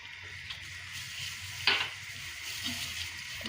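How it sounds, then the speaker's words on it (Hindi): Sabudana dessert flavored with vanilla essence is stirred in a pan over gentle cooking hiss, with one sharp scrape of the spoon midway and softer movements around it, no voices. "इसको अच्छे से मिक्स कर लेंगे।"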